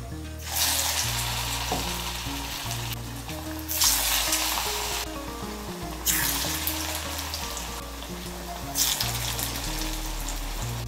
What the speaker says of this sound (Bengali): কোপ্তাগুলো ভাজার জন্য কড়াইতে সর্ষের তেল বসিয়েছি